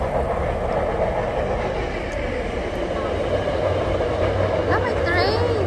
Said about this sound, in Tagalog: May train.